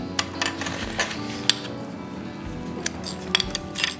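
A Teavana loose-leaf tea holder, used with a pewter pre-measured teaspoon, gives a few scattered light metallic clinks as it is handled, close and quiet with no talk.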